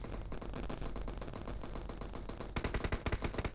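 Gunfire in the mobile battle-royale game PUBG Mobile, a muffled stretch of shots followed by a burst of sharp, rapid automatic fire at the end.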